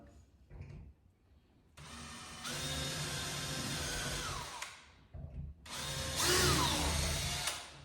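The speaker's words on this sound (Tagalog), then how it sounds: "Ang screw, lagyan natin ng drill bit. Butasan mo natin" A power drill with a bit bores a screw hole while a new bi-fold closet door is installed. Two sustained, loud whirring runs are separated by a short pause, and no one talks.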